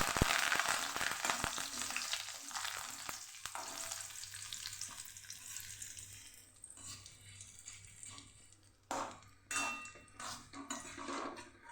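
Curry leaves drop into hot oil for garlic-spiced puffed rice and burst into a loud, dense sizzle that gradually fades, followed by a few scattered clatters and softer crackles near the end.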